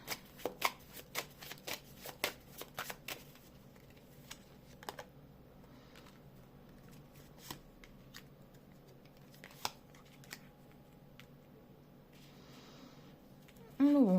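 Tarot cards riffle and snap in quick bursts early on, then occasional soft taps and clicks in a quiet room; a short voice enters at the end.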